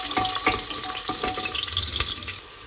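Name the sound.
garlic and curry leaves frying and being stirred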